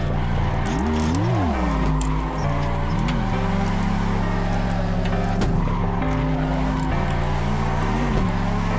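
Racing car in the driving game Assetto Corsa, its engine revving up and down in steady sweeps with repeated tyre squeals and skids, loud and continuous with no talking.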